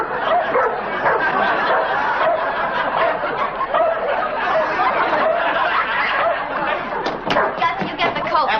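A dog barks amid lively 1950s comedy film dialogue, the yaps mixed under overlapping voices and chuckling throughout.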